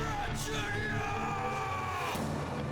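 A loud sustained yell rises over the dense closing of a K-pop song, a drawn-out shout blended with the music for a few seconds.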